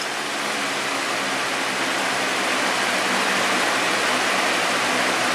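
Steady airy hiss from a Lasko box fan set to low, quieter than the higher speeds but still a smooth, unbroken wash of noise with no speech.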